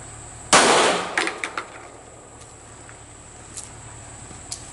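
A .40 caliber handgun fires hollow point rounds at a target: one sharp, loud, close report with a ringing tail, then a few lighter metallic clanks and faint ticks trailing off.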